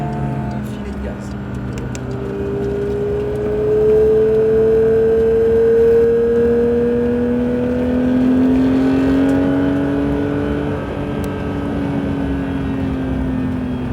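Porsche GT3 lapping a circuit, the engine note rising and falling as it brakes and then holds light throttle, with a steady drone and a voice talking over it throughout.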